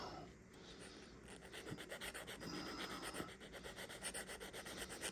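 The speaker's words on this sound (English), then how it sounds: "I love these little sanding twigs." Quiet, repeated scratchy rubbing strokes of small sanding sticks, fine sanding in quick back-and-forth rhythm, close up and steady.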